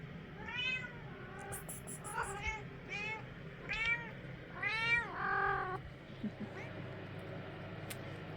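Young kittens mew over and over in a village house, thin high calls coming close and in quick succession over a low steady background hum.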